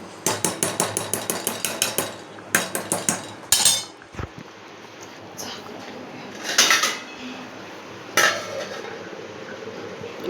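A metal lid clanks onto a cooking pot while popcorn is made at home: a quick run of sharp metallic clinks, then a few louder, separate clanks and scrapes, close and with no talking.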